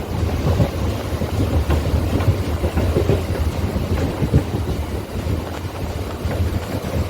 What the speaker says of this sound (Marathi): ट्रेनची थोडी मोठी स्पीड पकडले पूर्ण हलते ट्रेन